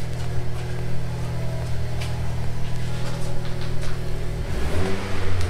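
A car with an aftermarket valved exhaust, valve closed, idles and revs gently with a low, muffled hum, steady and fairly quiet, with no voices.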